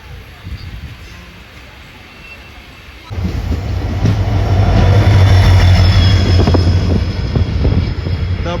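The Guruvayur-Madurai Express pulls into Bhagavathipuram station behind a WDP4 locomotive; quiet rail background gives way to a loud, sustained rumble of wheels and carriages that continues steadily to the end.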